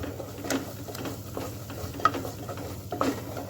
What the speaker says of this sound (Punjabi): ਤੇ ਗਰਮ ਮਸਾਲਾ ਪਾ ਰਹੀ ਹਾਂ ਥੋੜਾ ਮਿਕਸ ਕਰ ਲੈਂਦੇ ਹਾਂ